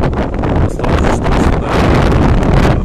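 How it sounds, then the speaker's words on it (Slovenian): Strong outdoor wind buffeting a microphone, a loud rumbling roar with gusty swells throughout, alone without talk. "Zelo piha veter, tako da bo verjetno šumel."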